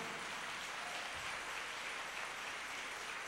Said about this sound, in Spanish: Un aplauso para Cristo por él